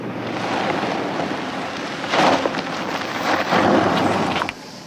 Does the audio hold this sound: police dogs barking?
no